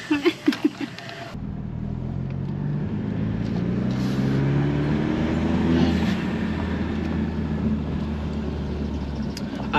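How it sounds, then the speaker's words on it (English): An Alfa Romeo Giulia engine runs with a modified intake, a steady, full engine drone with a rising tonal whine, heard close after a few short knocks at the start. "the intake's actually very overpowering"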